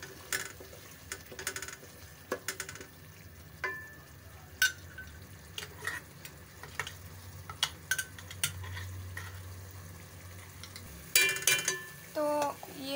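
Spoon stirring chickpea curry (chikar channay) in a pan, with soft scraping clicks and light sizzling throughout, a few sharper clinks near the end.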